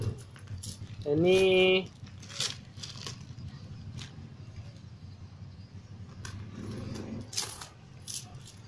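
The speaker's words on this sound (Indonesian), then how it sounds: "koin 1000 rupiah kelapa sawit ini saya dapatkan di harga per kepingnya 2300 rupiah" Indonesian 1000 rupiah palm oil coins clink and jingle in a short burst, close and bright, followed by soft handling rustles with faint background noise.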